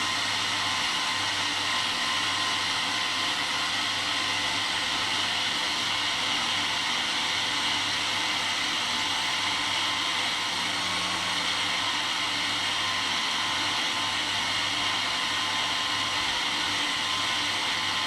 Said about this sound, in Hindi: आपने इसे ग्राइंड करते रहना है।